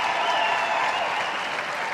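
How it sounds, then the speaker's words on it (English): A large arena crowd at the Westminster Dog Show Best in Show ceremony applauds in a dense, continuous roar of clapping, loud and sustained throughout. "this crowd, it sounds like overtime at the Garden"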